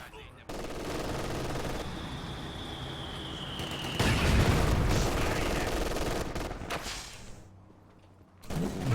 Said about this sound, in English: these squads here in the north having a bit of trouble with this MG42